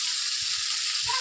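Onion, tomato and sliced Malabar spinach fruit frying in fish oil in a pan, giving a steady close broadband sizzle with a few soft low stirring knocks.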